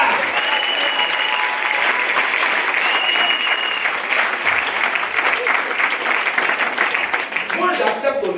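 A church congregation applauding continuously at a Sunday service, a dense, loud wash of many hands clapping with a voice faintly audible beneath it.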